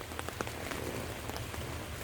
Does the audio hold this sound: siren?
no